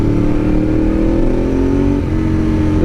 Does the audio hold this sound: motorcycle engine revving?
yes